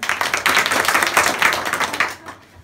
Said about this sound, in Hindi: वेरी गुड, ताली बजाओ इनके लिए